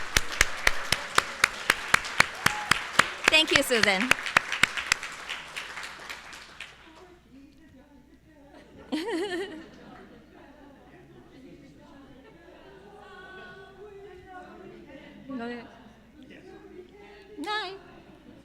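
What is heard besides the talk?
dinner audience applauding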